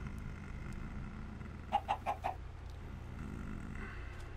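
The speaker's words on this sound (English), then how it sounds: "Hi, chicken. What are you doing?" A chicken in Minecraft gives four quick, evenly spaced clucks midway through, clear over a low, steady game ambience.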